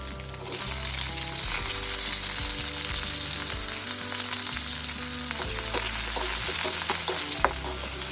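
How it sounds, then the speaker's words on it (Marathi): Onion sizzles in a hot pan alongside roasted soya chunks for a soya chunks masala, a steady close frying hiss with occasional spatter crackles and a low hum underneath, no voices. "भाजलेले दिसले की मग याच्यामध्ये आपण कांदा टाकायचा आहे"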